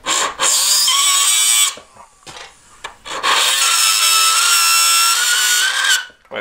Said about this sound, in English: it's grinding away quite easily, look